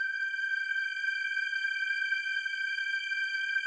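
A high, bright sustained synth chord holds steady without change, a thin shimmering stack of tones at moderate volume.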